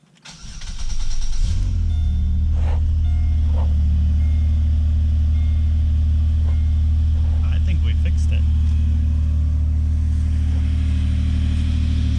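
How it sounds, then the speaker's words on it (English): A Pontiac G6 engine starts and settles into a steady, loud, fairly high idle after an exhaust repair, with a constant low rumble and a few faint clicks and knocks over it. "Still high idle. I think this is pretty normal for this car"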